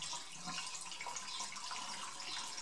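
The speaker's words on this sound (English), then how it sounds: "pour as fast as you can. You can hear by the sound how full it is." Water poured quickly into a clogged drain gives a steady, rushing splash and gurgle that holds at an even level for the whole stretch, with no voices.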